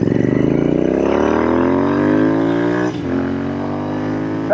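A Royal Enfield Interceptor 650 twin engine revs up close and loud, its pitch climbing steadily through a long pull, dropping briefly, then holding a strong drone; no talking over it.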